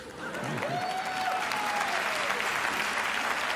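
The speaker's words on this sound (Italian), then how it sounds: "Grazie per l'applauso senza motivo." A theatre audience at an Italian comedy show breaks into applause, which swells quickly and then holds as a steady, dense wash of clapping from a large crowd.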